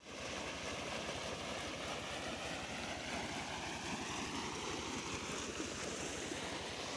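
Irrigation water rushing into a rural wheat field, a steady broadband gushing and splashing close to the microphone, continuous and fairly faint, with no talk.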